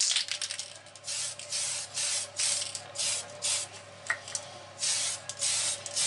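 A spray can hisses in repeated bursts of varying length onto a Mercedes AMG model, the mid-loud sprays broken by short pauses, close and steady throughout with no voices.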